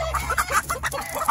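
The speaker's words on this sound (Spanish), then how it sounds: "Mira la gallina que le están echando a este gallo, japonés." A hen clucks beside a Japanese gamecock in a cockfighting yard, giving a run of short, close clucks in an uneven rhythm over steady low background noise.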